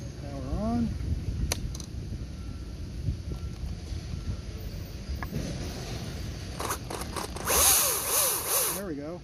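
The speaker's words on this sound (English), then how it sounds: "Okay, we got our electric saw here." A Makita electric chainsaw runs with a quiet, steady motor whine, rising into a louder, brighter burst near the end. Wind rumble and light handling noise sit underneath.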